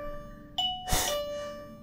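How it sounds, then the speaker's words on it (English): Motion-sensor box in a reportedly haunted manor chiming a sustained tonal note, with a short electronic beep and a louder burst near the middle, fairly close and without speech. "made the box chime and beep, and so if you step in front of it, it'll do that for us"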